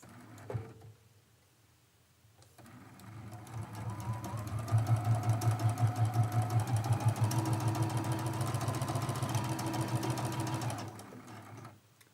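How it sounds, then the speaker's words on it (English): A sewing machine stitching a quarter-inch quilt seam starts after a brief click, ramps up to a fast steady mechanical chatter for several seconds, then stops; close and alone without speech. "we're going to sew that seam with your 1/4 inch seam allowance"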